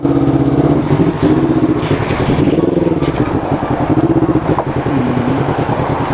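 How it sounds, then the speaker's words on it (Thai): A motorcycle engine runs with a low, rough, pulsing drone that rises and falls as the throttle changes, close and loud throughout with no speech over it. "เครื่องยนต์สตาร์ท"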